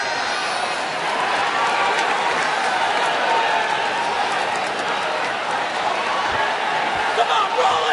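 Sellout arena crowd of over 16,000 in Boston at WWE Hell in a Cell, a dense, steady roar of cheering and chatter filling the whole stretch, with scattered claps and shouts rising out of it.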